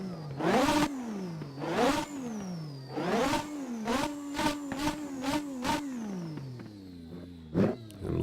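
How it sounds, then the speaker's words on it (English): A 1988 McLaren MP4/4 Formula One engine in the racing game Assetto Corsa revs up and down over and over, sharp bursts of throttle between gear shifts, loud and up close. "the fantastic sounds this car makes"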